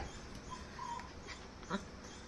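Long-coated black-mask breed puppies whimper and yip faintly at a kennel, a few soft cries rising over steady background noise.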